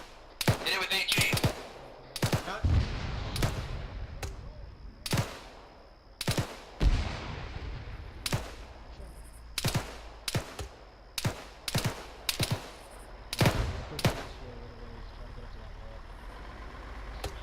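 Repeated bursts of gunfire, single shots and short volleys, crack through a military field training exercise at an irregular pace, some near and loud, others more distant, with voices and a vehicle engine in the background.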